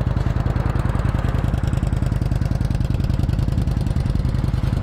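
A 2007 Kawasaki Vulcan VN900C Custom with 1,881 miles, not yet warmed up, runs close by, its engine thumping in a fast, even pulse throughout, loud and steady with no talking.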